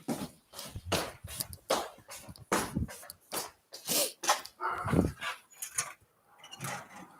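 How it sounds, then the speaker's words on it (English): A dog named Gordy barks over and over, a run of sharp, loud bursts close by with short gaps between them and no talking. "Gordy is still barking"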